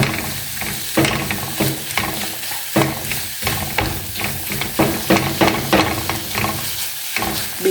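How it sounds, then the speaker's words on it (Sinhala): Eggs are scrambled and broken into small pieces in a hot pan, a loud, continuous sizzle with rhythmic scraping strokes of a utensil repeating about every half second. "මේ වගේ හොඳට බිත්තර ටික පොඩියට කුඩු කරගන්නවා වගේ අර ස්ක්‍රැම්බල් කරගන්නවා."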